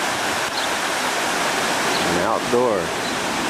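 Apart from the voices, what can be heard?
small river flowing through a village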